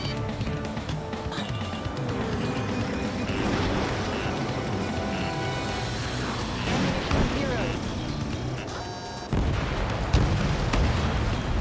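Missile explosions and heavy combat noise in the Ace Combat 7 video game, a dense continuous roar of blasts and rumbling with a sharp cut and renewed burst near the end.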